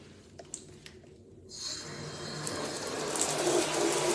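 A bathtub starts filling as a tap opens, turning a quiet room with a few small clicks into a steady, close rush of running water that builds slightly in strength.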